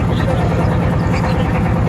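A boat engine drones steadily while cruising slowly across Tanguar Haor, a loud, continuous rumble with even, unbroken intensity and no pauses throughout.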